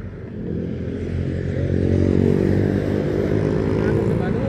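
A motorcycle pulls away on a road between Lawang and Singosari, its engine rising in a steady, loud drone with wind and traffic rumble, while a voice talks over it.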